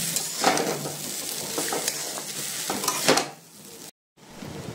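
Chowmein being stirred with salt in a hot pan: spatula scrapes and clinks over a crackling sizzle, close up, then a short cut of silence before the frying resumes.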